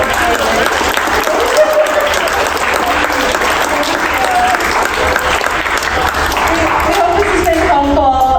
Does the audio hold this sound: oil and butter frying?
no